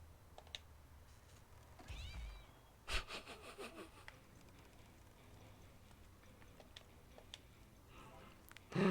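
A cat meows in The Simpsons: Hit & Run, a short cry heard amid game sounds and clicks; a sharp impact-like burst follows, the meow fairly faint under the general game noise.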